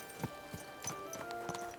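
Horse hooves clop at an uneven walking pace in the video game Kingdom Come: Deliverance 2, a few soft, close thuds over quiet background music.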